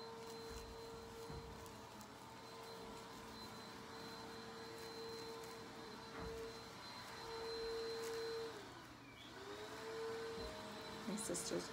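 A vacuum cleaner drones steadily in another room, a faint continuous hum with a high whine that dips and recovers near the end, running the whole time behind quiet indoor background.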